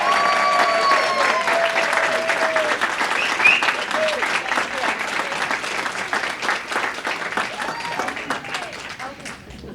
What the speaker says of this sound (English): Now I ask everybody to join me in one more round of applause